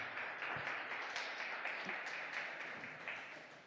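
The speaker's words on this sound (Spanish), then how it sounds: "Dale un fuerte aplauso al Señor" Church congregation applauding together, a steady wash of many hands clapping that holds for several seconds, fairly soft and distant.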